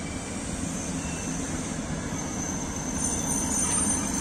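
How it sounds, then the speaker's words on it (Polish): An Intercity Silesia passenger train runs past, a steady rumbling roll of wheels on rail with a faint high squeal, heard alone from the trackside at a moderate distance. "No i tu na horyzoncie Intercity Silesia."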